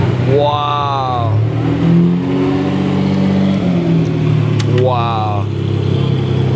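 A Ferrari Testarossa engine revs in two sharp rising bursts near the start and again later, loud over a steady engine drone, with people talking throughout.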